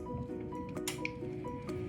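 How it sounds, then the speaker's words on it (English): Lemon pound cake batter being stirred by hand in one direction, giving soft, wet squishing and scraping strokes in a quiet kitchen over a steady low hum. "Please mix the batter in the same direction, one direction."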